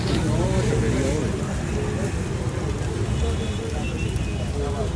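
Steady rain patters and hisses on a surface throughout, a dense continuous wash of noise with voices faintly mixed underneath.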